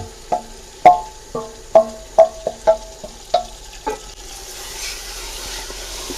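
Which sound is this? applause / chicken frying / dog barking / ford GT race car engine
chicken frying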